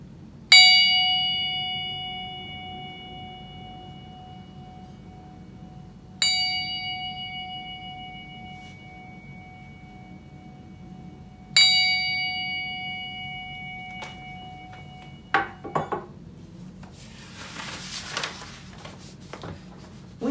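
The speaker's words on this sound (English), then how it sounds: "our ringing of the bell" Three clear strikes of a church bell before a worship service, spaced about five seconds apart, each ringing out and slowly decaying, followed by a few softer clunks and rustling.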